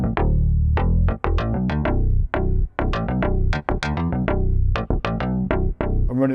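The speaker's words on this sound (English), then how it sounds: "Or we could take a classic FM sound like this bass" A classic FM bass patch on a Korg Opsix synthesizer plays a punchy, plucky riff of short, bright notes in a steady rhythm, loud and close with no talking.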